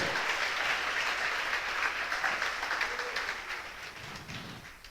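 A church congregation applauding during a sermon, a dense sustained wash of clapping from many hands that slowly fades toward the end.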